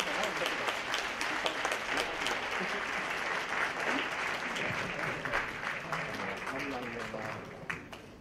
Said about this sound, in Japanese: 拍手が送られております